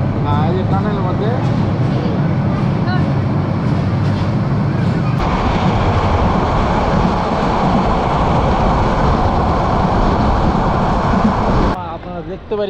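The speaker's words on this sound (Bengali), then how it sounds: "এই মধ্যে ট্রেনটি আমাদের একটা টানেলের মধ্যে ঢুকে গেল।" A passenger train from Joypurhat to Cox's Bazar runs through a tunnel, its dense rumbling roar loud and continuous and swelling partway through, with a voice talking over the start.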